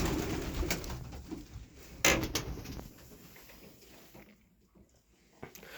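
Soft cooing of pigeons with fluttering and shuffling nearby, a sharp knock partway through, in a quiet enclosed space on a poultry farm.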